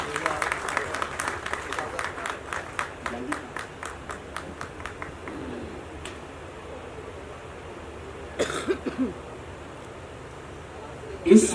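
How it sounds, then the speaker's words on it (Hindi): An audience applauds to welcome a guest on stage at a music video launch. Steady rhythmic clapping builds over several seconds and then thins into crowd murmur and background noise, with a voice briefly heard later. "पुरजोर तालियों से इस्तकबाल करें दोस्तों"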